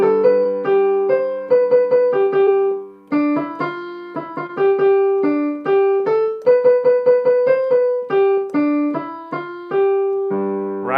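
Solo piano melody in hypomixolydian mode, circling a G and dipping down to the lower D before climbing back, played as a steady run of distinct close notes with brief pauses and no voice.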